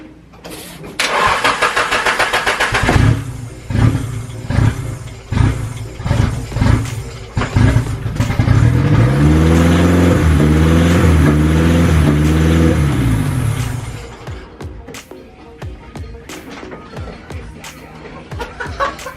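A Nissan SR20DET engine cranks in several rhythmic bursts, catches, and revs up loudly for a few seconds before the sound dies away, followed by scattered clicks and knocks.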